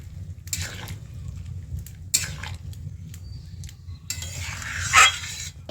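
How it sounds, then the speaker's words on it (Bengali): A spatula scrapes and stirs fried prawns with pointed gourd in a pan, giving intermittent bursts of scraping and clinks of metal against the pan, close, over a low steady hum. "এরপর দিয়ে দিচ্ছি ভেজে রাখা চিংড়ি মাছ এরপর একটু এটি নেড়ে নেবো"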